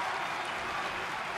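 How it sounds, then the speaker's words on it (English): Crowd noise from a WWE 2K24 wrestling match in created-wrestler universe mode, a steady broadband roar of cheering and applause filling the arena, continuous and fairly loud throughout with no break. "The crowd is loving it."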